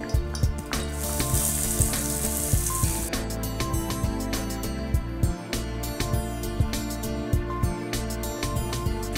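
Chopped onions sizzle in a little hot oil in a pan for paneer bhurji, with a steady crackling hiss, sharp pops and scraping clatter throughout and no voices.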